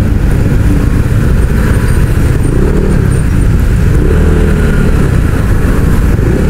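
Busy road traffic in Calamba, Laguna, with cars and motorcycles such as a scooter weaving through, a steady loud engine rumble and passing vehicles filling the whole stretch with no talk.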